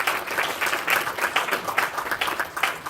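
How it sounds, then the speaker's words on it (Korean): Audience applause at a sports AI and big data conference presentation, greeting a fifth-grade student assistant coming up; a moderate, continuous patter of many hands clapping at mid distance, no voices over it. "박수 보내주십시오."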